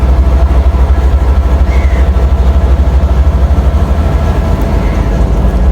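A heavy train departing a station in Sri Lanka rumbles nearby with a deep, continuous low drone and steady mechanical noise, loud and close throughout.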